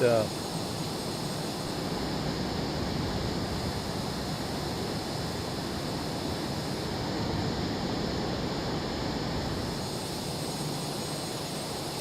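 An F/A-18E Super Hornet takes off in Microsoft Flight Simulator 2024, its jet engines a loud, steady roar that holds throughout with little change.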